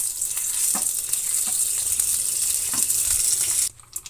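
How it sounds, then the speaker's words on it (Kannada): Mustard seeds, cumin and curry leaves sizzle in hot oil for a brinjal gojju tempering, a loud and steady fry with scattered crackles and pops that stops abruptly near the end. "ಒಗ್ಗರಣೆ ಮಾಡೋಣ."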